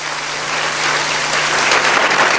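A church congregation applauds, a dense, loud, continuous wash of clapping that holds steady and swells slightly toward the end, with no talk over it.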